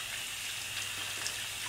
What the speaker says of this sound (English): you rinse it till it comes clean